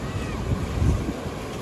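Big waves break and wash on a seashell-strewn beach, a low rumbling surge of surf mixed with heavy wind buffeting the microphone, brief and close.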